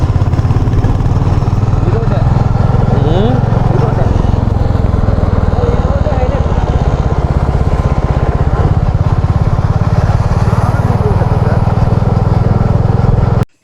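A motorcycle rides through hills from a hospital toward Araku Valley, its engine droning steadily and loudly with rumbling wind noise for the whole stretch and no voices over it.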